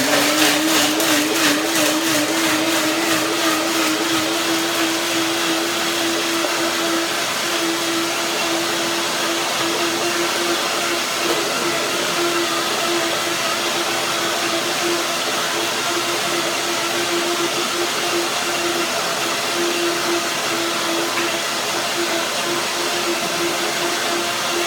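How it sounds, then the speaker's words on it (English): A blender motor whirs steadily and loudly at close range, a continuous high-pitched mechanical drone that holds an even level throughout. "Blender dance."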